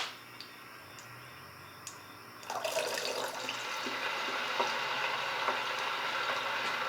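Random objects poured into hot oil in a deep fryer set off a sudden loud, steady sizzling and bubbling partway through, following a quieter stretch of faint ticking.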